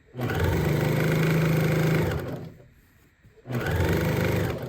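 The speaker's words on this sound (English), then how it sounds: "And I'm just going to edge stitch it, pick a measurement for how wide I want it to be." A sewing machine edge-stitching a zipper pouch, its motor whirring loudly and close, stopping briefly in the middle, then starting again.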